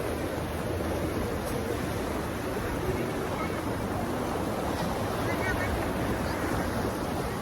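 Steady, broadband rushing of the fast-flowing Palakol River, loud and continuous throughout with no breaks.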